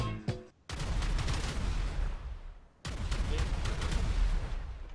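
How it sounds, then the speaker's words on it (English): Rapid gunfire in GTA 5: a brief crack, then two long, loud bursts of sustained automatic shooting separated by a short lull. "They're shooting outside, dude."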